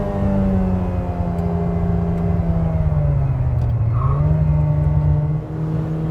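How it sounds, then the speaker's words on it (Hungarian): A sports car engine revs hard while being driven, a loud, steady high-rpm drone with rising and falling pitch and a brief dip in tone before it picks up again. "Egy ilyen kétarcú motor ez, mert itt 5000-nél itt feléled."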